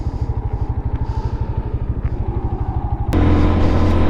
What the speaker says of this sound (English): It's got a nice quiet exhaust to it. It does have a little bit of a rumble, but it's quiet.